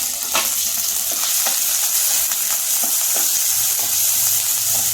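Onion, tomato and green chili sauté in a pan with a loud, continuous sizzle close up, punctuated by regular stirring taps of a spatula.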